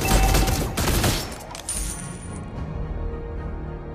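Granger, a hero in the Mobile Legends mobile game, fires a dense burst of rapid gunshots for about a second and a half, then the shots ring out and fade over quieter game background sounds.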